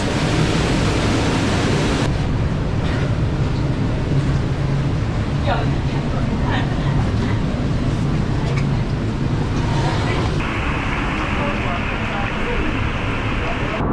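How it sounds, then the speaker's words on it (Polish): Waterfall in the jungle, a steady broadband roar of falling water that fills the whole clip at constant loudness, with faint clicks and rustles on top and a slight shift in texture partway through. "Tam jest wodospad."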